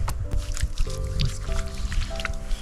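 Hands and face being washed with heated water outdoors in snow, giving quick wet splashes, drips and squishy rubbing sounds close by over a steady low background hum.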